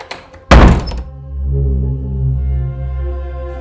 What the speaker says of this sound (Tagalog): may narinig akong kakaibang tunog at kalabog sa pinto ko